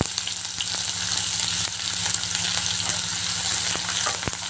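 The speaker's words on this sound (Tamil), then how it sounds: "ஜீரகம் பொரிஞ்சிச்சு ஒரு பெரிய வெங்காயம் சின்ன கத்திரி வச்சுக்கோம் அதை சேர்த்துக்கலாம்" Cumin seeds and chopped onion fry in hot oil for masala puri, giving a steady, close, continuous sizzle and crackle with a few sharp pops and no talk.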